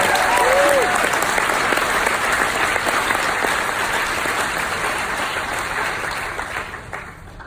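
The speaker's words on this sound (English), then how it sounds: "So I'd just like to round of applause for all." Audience applause at an award ceremony for patient advocacy, attended by over a thousand people: dense, steady clapping from a large crowd that slowly fades toward the end.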